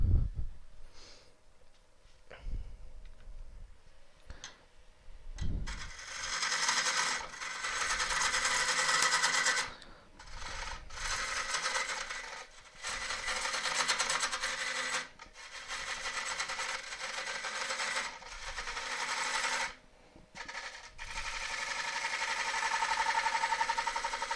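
Gouge cutting an elm burr on a wood lathe makes bursts of rough, hissing, scraping noise that start and stop repeatedly, close and fairly loud, with the lathe's hum beneath and no talk.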